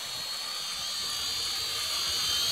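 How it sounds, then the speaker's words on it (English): A World Tech Toys Striker spy drone quadcopter flying outdoors at full throttle, giving a steady, high-pitched whining buzz from its small rotors that holds constant and grows slightly louder over a couple of seconds, with no talk. "Full throttle, doesn't even want to stay on the air."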